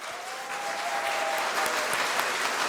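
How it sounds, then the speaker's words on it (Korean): Steady, dense applause from an indoor audience at a Korean-language speech contest for international university students, sustained and fairly loud throughout with no talking over it. "힘찬 박수로 응원해 주십시오"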